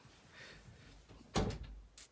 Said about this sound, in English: Would you close that door?